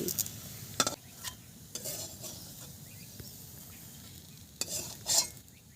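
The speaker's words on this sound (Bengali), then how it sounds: "যেমন করে ভেজেছি ওইভাবে আমি সবগুলো ভেজে নেব" Bottle gourd flower fritters fry in a pan with a faint, steady sizzle, broken by a few sharp clinks and scrapes of a utensil against the pan.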